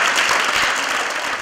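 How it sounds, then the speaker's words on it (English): Audience at a women's event in Amsterdam breaks into dense, sustained applause, a loud, even wash of many clapping hands with no voices on top. "You have to stand up and applaud for yourself"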